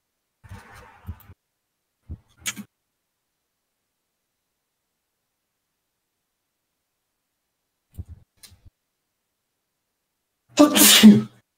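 A single loud sneeze bursts out near the end, close and sharp, after a few faint scattered thumps and rustles in an otherwise quiet room during a tabletop role-playing session.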